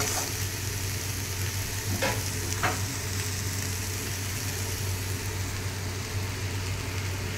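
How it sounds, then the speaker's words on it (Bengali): Pre-fried semolina is added and stirred into tomatoes in a pan, with a steady close frying sizzle and a couple of distinct scraping stirs over a constant low hum. "এবার আমি যে সুজিটা আগে থেকে ভেজে রেখেছিলাম সেইটা অ্যাড করব।"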